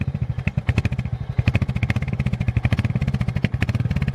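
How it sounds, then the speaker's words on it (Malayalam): A Royal Enfield Hunter 350 idles close by, its exhaust thumping in a steady, even rhythm of deep pulses with no talk over it. "നമ്മളിപ്പോൾ ഐഡിൽ ചെയ്യുമ്പോൾ മീറ്റിയറിൻ്റെ സെയിം സൗണ്ടാണ്"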